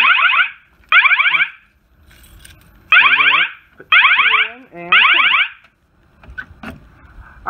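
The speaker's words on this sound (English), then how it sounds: "Wall Test 11 System Sensor Mass. It's a really cool alarm." A System Sensor MASS fire alarm sounds loud and close, repeating a harsh sweeping electronic tone in several long bursts separated by short pauses, with faint handling noise between them.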